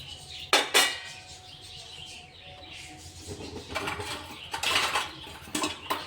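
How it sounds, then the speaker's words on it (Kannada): A utensil clinks and scrapes against a pot while grated coconut is stirred into a cooking mixture, with a few sharp metallic knocks early on, then softer scraping and shuffling. No one speaks. "ತೊಗೊಂಡಿರುವಂಥ ಈ ಕೊಬ್ಬರಿನ ಹಾಕ್ಕೊಂಡು ಮಿಕ್ಸ್ ಮಾಡ್ಕೊಂಡು ಚೆನ್ನಾಗಿ"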